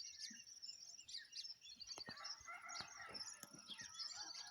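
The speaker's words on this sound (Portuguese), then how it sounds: "como é o amanhecer com o som dos pássaros. Galo cantando." Birds call and chirp at dawn in the sertão of Brazil, a busy mix of faint, high twitters and whistles from several birds, with scattered short calls over a quiet background.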